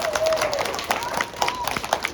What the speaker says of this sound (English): let's give a big round of applause to Grandmaster Orange